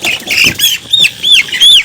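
A chicken squawks repeatedly while being caught by hand, a series of close, loud, sharp cries coming in quick bursts with short pauses, no talking.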